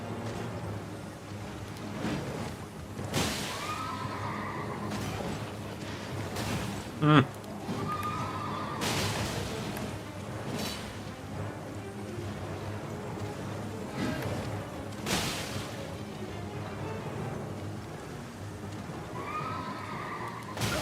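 A horse whinnies a few times amid Elden Ring game sounds, music and a sharp burst, with someone talking over much of it.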